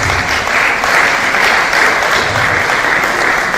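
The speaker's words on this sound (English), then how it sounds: "Please a round of applause for him." Steady, dense applause from a seated audience at a pharmacists' clinical masterclass, the clapping loud and continuous throughout with no voices over it.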